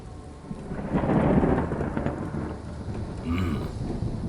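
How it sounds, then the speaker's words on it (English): A deep roll of thunder rumbles through a storm with rain falling, swelling to a loud peak then fading before a second, smaller rumble near the end, with no voices. "And yet there was another roll of thunder, closer from the east"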